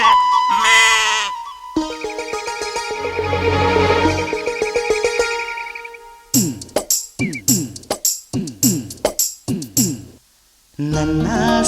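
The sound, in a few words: lambs bleating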